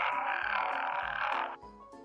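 A toad croaking sound effect: a short run of loud, close, raspy croaks that rise and fall in quick succession, heard alone with no voices.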